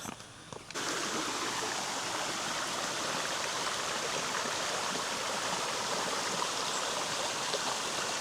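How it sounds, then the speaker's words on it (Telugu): A small waterfall stream flowing along the Devkund waterfalls trek near Pune, Maharashtra, a constant broad rushing wash of water that starts abruptly after a short quieter moment and stays steady and close. "వాటర్ పడుతున్న సౌండ్ వస్తుంది"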